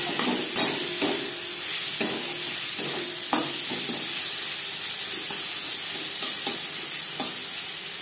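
Tomatoes and slit green chillies stir-fried with onions and garlic in a pan for dal fry give a continuous hissing sizzle broken by regular scraping strokes of a spatula.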